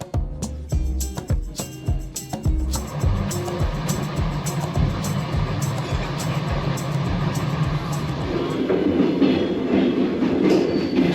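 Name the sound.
old train running over rails, clickety-clack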